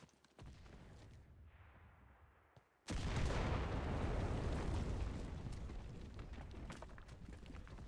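A Panzer Fist explosion in a video game: a quieter rumbling lead-in, then a sudden loud blast that rolls on into a long, slowly fading roar.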